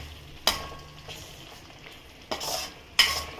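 Ridge gourd pachchadi bubbles gently in a pan at a low, constant level, while a spoon stirs and scrapes three times in sharp bursts, with no talking.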